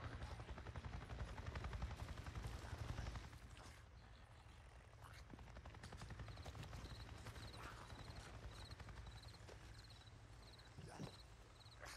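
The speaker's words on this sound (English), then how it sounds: "I just saw a goddamn chopper!" A helicopter in the video game Days Gone passes nearby, a steady low rotor thrum running underneath dense in-game ambience with faint crackling and clattering effects.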